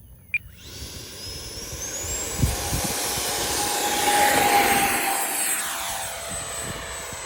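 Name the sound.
FMS 80mm Rafale RC jet taking off at full power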